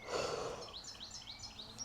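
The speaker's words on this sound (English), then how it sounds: "listening to the birds singing" Birds sing faintly in the distance at a campsite in France, repeating short rising chirps over a quiet, soft background.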